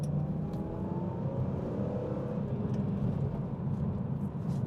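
Steady low engine drone from a BMW M3 accelerating in third gear, a continuous rumbling roar with a faint rising whine running under it throughout.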